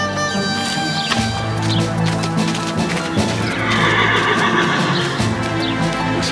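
A horse whinnies loudly and repeatedly over steady clip-clop of hooves, with snorts and stamping close by throughout.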